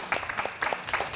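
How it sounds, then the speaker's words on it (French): Applause in a studio for a guest, a short run of scattered, rhythmic claps at moderate level, fairly faint overall. "Applaudissements pour Fireman."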